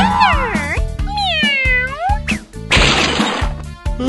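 A cartoon cat meows repeatedly in loud, drawn-out rising and falling cries over a busy backdrop of rhythmic thumps and a burst of noisy clatter.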